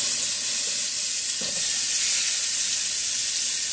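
Oxtails and vegetables sear in a hot pan, a steady close sizzle running throughout with a brief stirring scrape partway through.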